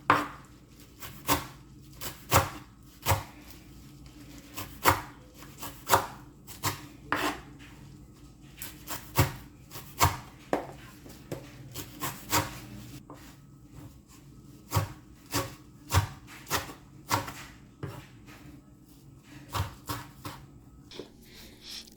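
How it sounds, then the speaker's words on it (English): A knife chops spinach-like leafy vegetable leaves on a board for a Nigerian vegetable soup, giving a steady run of sharp, close cutting taps with short pauses between bursts, no talking. "I'm done cutting the leaves"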